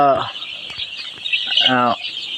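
Six-day-old broiler chicks peep in a shed, with a couple of sharp, rapid chirping bursts close by over a faint background of more chicks.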